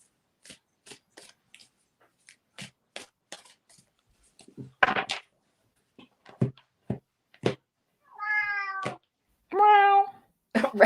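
A cat meows several times indoors, clear, tonal calls near the end after scattered clicks and shuffling sounds, fairly close and moderately loud with no talk over them.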